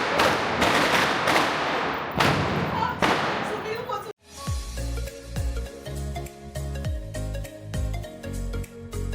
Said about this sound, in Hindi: बच्चे लोग यहाँ पे खूब सारा पटाखा चला रहे हैं